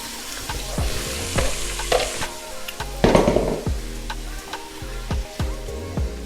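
Salt-seasoned vegetables sizzling in a pan for a Jamaican escovitch, a steady close frying hiss with repeated clicks and scrapes of stirring, loudest midway, no talk.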